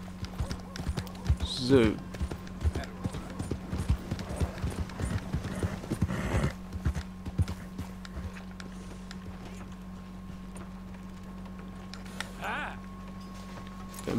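Horse hooves clip-clop in Red Dead Redemption 2, a quick run of close hoofbeats that slows and stops, then a steady hum, with brief speech and a short whinny-like call in between.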